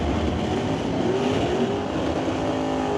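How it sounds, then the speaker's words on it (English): An NHRA stock eliminator drag race car roars loudly as it accelerates down the strip at Mission Raceway Park during an old-time drag event, engine noise rising close and continuous with no voices over it. "NHRA legal stock eliminator car."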